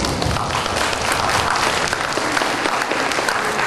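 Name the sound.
applause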